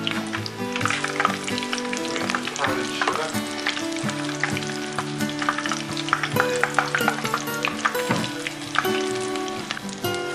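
Apple fritters fry in hot oil in a pan with a dense crackling sizzle, steady and close, while music plays in the background.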